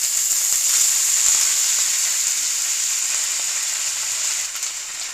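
Fenugreek and amaranth greens fry in a hot pan, producing a bright, steady hiss of sizzling oil that eases slightly toward the end, with no voices.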